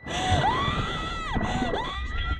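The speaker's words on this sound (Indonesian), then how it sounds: "sementara Emily terus berteriak histeris" A woman screams hysterically in a deep-sea diving film, her high, wavering cries bending up and down for over two seconds, loud and continuous, with a low rumble beneath.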